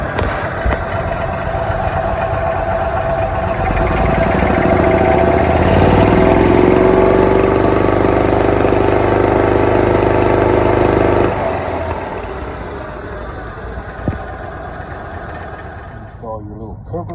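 A small engine with a snorkel starts and idles, then revs up to a higher steady speed before dropping back down, loud and close, running throughout.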